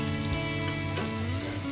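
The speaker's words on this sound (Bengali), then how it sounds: "এখন অবশিষ্ট তেলের মধ্যে আরও কিছু তেল যোগ করে আমরা পেঁয়াজগুলো ভেজে নিচ্ছি" Onions frying in oil left over from frying chicken for a chicken roast, a steady close sizzle and crackle running throughout with no voices.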